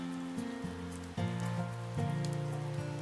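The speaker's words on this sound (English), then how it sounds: "The rain outside pounded the roof in a constant steady rhythm." Steady rain pounds a roof in a video game, a dense, even patter with no talking, while soft musical tones sit underneath and swell in slow chords across the stretch.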